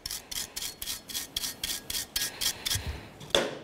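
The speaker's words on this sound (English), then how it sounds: "use a wire brush and just go along the edges right along here" A wire brush scrubs the edges of a brake caliper bracket on a Ford Ranger in a series of about a dozen quick, bristly back-and-forth strokes, close and rhythmic, ending with a sharper knock.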